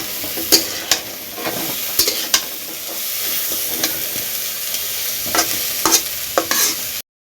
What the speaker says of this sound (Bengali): তেল দিয়ে টমেটো দিয়ে ধনিয়া পাতা কাঁচামরিচ দিয়ে ভুট্টা ভাজি হলো তেলের উপরে